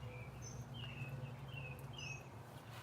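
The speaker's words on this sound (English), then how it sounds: "The birds are really loud." Morning birds sing outdoors, several high chirps and short whistled phrases scattered over a constant low rumble and insect-like hiss, with no voices.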